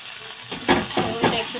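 Chopped onion and garlic go into hot oil with cumin seeds and bay leaf for a sweet pumpkin curry, giving a soft steady sizzle and hiss with a few louder surges as they land and get stirred.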